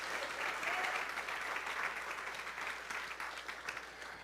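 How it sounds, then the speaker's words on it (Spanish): A church congregation applauding, many hands clapping in a dense, sustained burst that swells early and gradually tapers toward the end, with no speech over it. "Dele un aplauso al Señor, hermanos"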